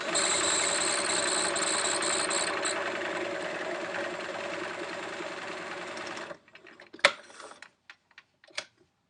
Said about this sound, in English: you're going to edge stitch along the edge right next to the edge of the fabric